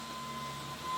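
Earth-digging machinery trenching for a water supply line from a well to a house at an off-grid cottage build, heard as a steady, faint, distant rumble and hiss with no speech.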